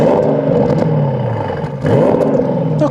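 Porsche Panamera GTS V8 engine revved while parked in normal driving mode, loud and close, with rising and falling pitch swells and a strong second rev near the end.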